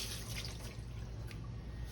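A green tomato is rinsed under a running kitchen tap, a steady close splashing water stream with no voices.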